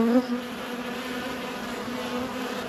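Honey bees buzzing steadily around an established beehive colony in an apiary in January, a continuous close hum with no voices.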